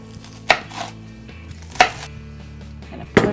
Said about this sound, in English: And I'm gonna make some smaller slices.